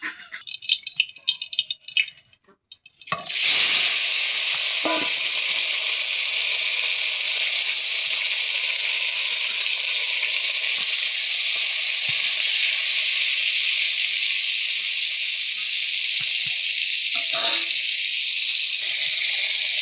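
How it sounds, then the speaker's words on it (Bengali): Pakal fish, a freshwater eel, frying in hot oil in a wok: after a few seconds of quieter handling, a loud, steady, dense sizzle begins and carries on continuously without letting up. "সবার প্রথমে আমি কড়াইতে তেল দিয়ে দিচ্ছি, মাছগুলোকে ভেজে নিচ্ছি।"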